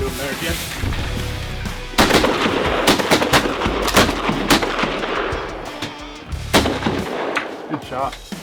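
Shotgun shots during a waterfowl hunt in Goshen County, with several loud, sharp blasts and booming reports in irregular succession close by, amid outdoor wind noise.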